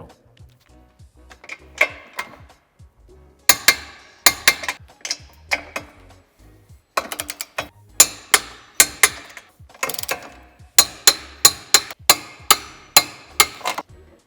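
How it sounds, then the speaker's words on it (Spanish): A ratchet wrench tightens the bolts of a tow hitch on a BMW X1 F to torque, giving many sharp metallic clicks in quick rhythmic runs, close and clear, with short pauses between sets. "Una vez aproximadas las tuercas, tendremos que darle el par de apriete."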